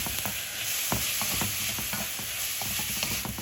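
Stir-fry noodles with vegetables and soy sauce sizzling in a pan while being stirred, a continuous loud hiss with scraping and clattering utensil strokes throughout, no talking.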